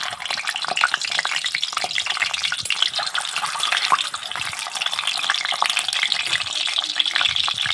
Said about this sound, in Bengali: তেলটা ভালোভাবে হয়ে গেছে, এবার আমি ডিমগুলো দিয়ে দিচ্ছি।